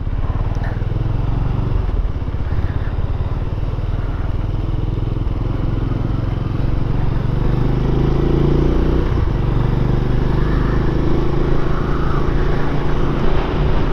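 A Benelli Imperiale 400 motorcycle exhaust thumps steadily while riding slowly through busy town streets, a continuous close engine drone with slight rises and falls in throttle and broadband wind rush.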